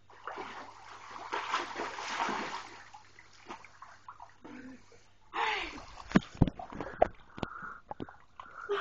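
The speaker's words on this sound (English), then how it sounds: "It's a big splash." A fish splashes in water with several sharp, close splashes and sloshes in the second half, while people talk quietly over the earlier stretch.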